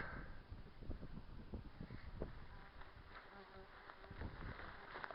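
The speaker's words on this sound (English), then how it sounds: "There's bees buzzing me here, folks." Bees buzz around on an open hilltop at an ancient Scottish hillfort monument, a quiet, continuous insect drone with wings passing close and fading, no one speaking.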